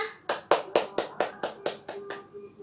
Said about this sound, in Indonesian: Beri tepukan kepada Rina.